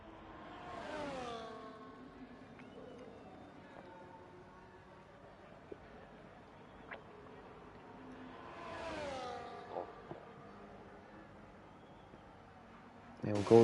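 A race car in the iRacing sim held flat out at full throttle, its engine whining steadily with two rising revving sweeps, under continuous commentary talk.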